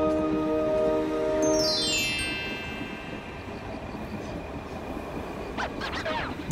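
Cartoon service trains running on rails at night, a rumbling, clattering train with a long descending metallic whine or squeal early on and sharp clicks near the end, no talk.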